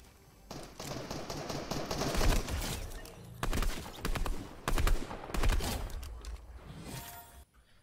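Gunfire from a sniping bot in the Fortnite video game: loud bursts of rapid shots and single cracks in clusters, close and sharp, without talk.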